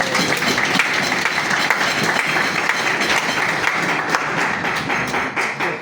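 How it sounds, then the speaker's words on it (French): Sustained applause from colleagues at a New Year's greetings ceremony, dense and steady clapping filling the whole stretch before easing slightly at the end. "Est-ce qu'on peut applaudir pour le..."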